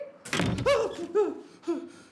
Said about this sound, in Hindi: दरवाजा बंद हुआ है हवा से।